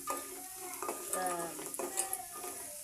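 Gram flour dumplings sizzle with onions in a pan while a utensil stirs and scrapes, giving soft frying crackle and a few light metallic clinks, close and fairly quiet.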